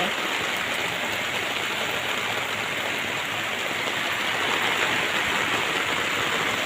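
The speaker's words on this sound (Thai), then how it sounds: "น้ำเต็มไปหมดเลยค่ะ น้ำไหล" Floodwater rushing and flowing through a flooded area, a steady broadband roar of moving water that keeps going without a break, close and continuous with no voices.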